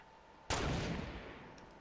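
A single sharp gunshot cracks out in a Fortnite battle royale match, an abrupt loud report that fades away quickly with a short echoing tail.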